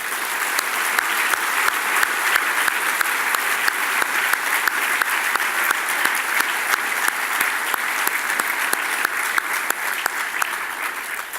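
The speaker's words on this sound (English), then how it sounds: "Please join me, ladies and gentlemen, in a round of applause for Charlie" Sustained applause from a dinner audience at a retail industry gala, steady dense clapping filling the room without pause for about eleven seconds.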